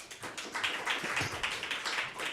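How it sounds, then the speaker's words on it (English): Audience applause for a performer at a student recital, a steady patter of many hands clapping with no voices over it, fairly quiet and filling the whole moment. "Another round of applause"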